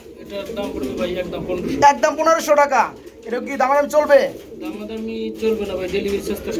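Grizzle pigeons for sale coo in low, throaty bursts nearby while people talk over them.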